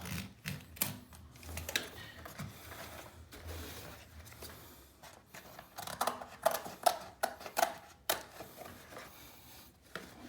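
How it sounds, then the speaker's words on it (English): A blade cuts through Phillip Jeffries natural textured wallcovering along its grooves, giving quiet irregular scraping and clicking strokes that grow into a quicker run of snips near the end. "we're going to just simply cut. This should be an easy cut because we're cutting with the grooves."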